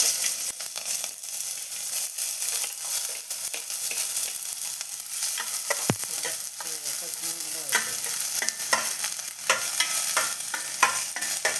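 Small onions frying in coconut oil in a pan for a mackerel curry, a loud continuous sizzle with crackling spits and stirring scrapes throughout.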